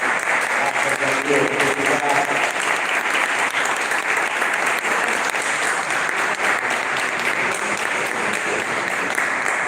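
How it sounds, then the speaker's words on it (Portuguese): Loud, sustained applause fills a church service as the congregation claps steadily for nearly ten seconds, with some voices mixed into the crowd noise. "Aplausos"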